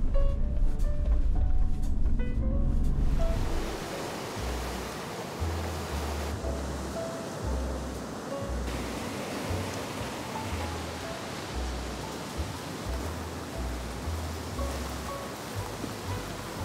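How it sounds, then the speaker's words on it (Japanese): Rough Sea of Japan surf crashes in a continuous heavy wash with wind noise across the microphone, loudest at the start and then a steady roaring surge. "見ての通り日本海もね大荒れです。"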